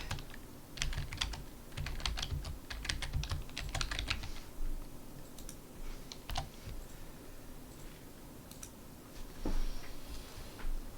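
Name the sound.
typing on a computer keyboard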